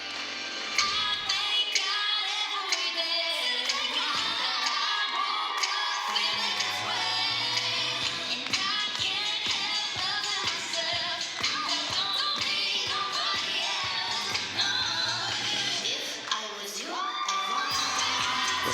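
Cheers and shrieks from a crowd of young spectators fill the arena at a city cheer and dance championship, steady and loud over pumping music, with excited whoops surging throughout.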